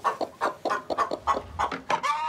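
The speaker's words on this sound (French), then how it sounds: "Dans son poulailler, 6 races de poules lui donnent des œufs" Hens of six breeds clucking in a chicken coop, a close run of about a dozen short, rhythmic clucks with brief gaps between them.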